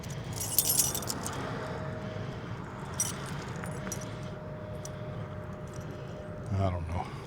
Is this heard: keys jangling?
yes